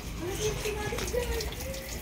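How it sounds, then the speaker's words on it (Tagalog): An automatic washing machine fills with water, giving a steady rushing flow close by throughout, with a faint tonal whine drifting over it and a person speaking briefly. "Okay, yun o, nagkakarga na siya ng tubig."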